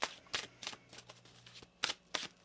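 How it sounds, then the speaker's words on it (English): Tarot cards are shuffled close by, with crisp riffling bursts repeating in quick, uneven strokes against a quiet room and a faint low hum. "One more shuffle here."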